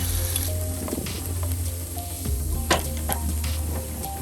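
Sliced green chili and garlic frying in hot oil, a steady close sizzle with soft stirring scrapes and light clatter underneath, no talking.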